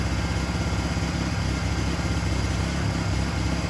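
A Honda EU1000i generator converted to run on propane idles with its eco throttle off, a steady close engine drone with an even low throb and no breaks.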